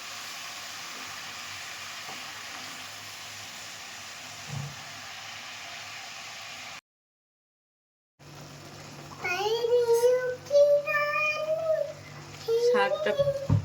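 Greens being stirred in a hot pan give a steady, even sizzle for several seconds, then stop; after a short silence a high, childlike voice talks.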